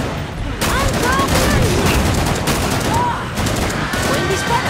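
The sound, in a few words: gunfire in the video game Killing Floor 2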